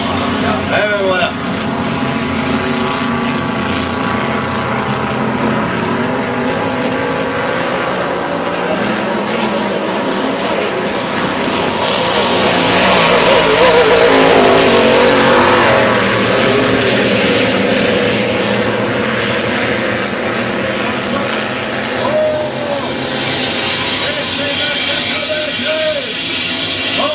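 Racing hydroplane boat engines roar during a 2008 race at Valleyfield, a loud steady drone that swells as the boats pass, with a commentator talking over it throughout.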